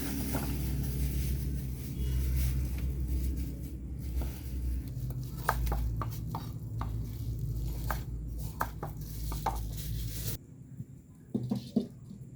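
Palm sugar is chopped in a home kitchen, a series of knife strikes on a board, irregular and fairly close, over a steady low background rumble that drops away near the end.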